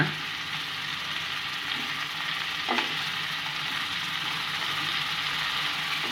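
Fresh mint leaves sautéing and being stirred in a pan with a little leftover oil, a steady close sizzle with a brief scraping stir near the middle, no voices.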